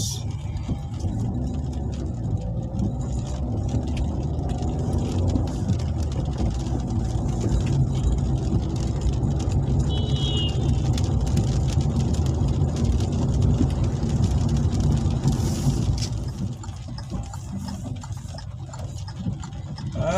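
A car drives through rain toward Nalbari town, with a steady close engine and road rumble under rain noise that eases slightly near the end; no one speaks.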